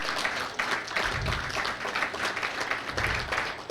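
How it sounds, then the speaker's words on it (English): An audience at a University of Bradford event in Ikeja, Lagos claps for a law professor, a dense, steady round of applause with a few louder individual claps. "Can you clap now?"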